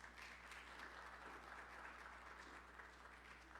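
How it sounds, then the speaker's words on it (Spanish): A church congregation applauds steadily throughout, a dense, even patter of many hands clapping in a reverberant hall, fairly soft and continuous without a voice over it. "Vamos a darle un aplauso a nuestro hermano Oscar."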